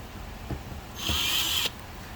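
A small screw on the side of a toilet's circuit board is backed out with a power driver, heard as a brief close whirring buzz of about a second after a couple of faint clicks, with no talk.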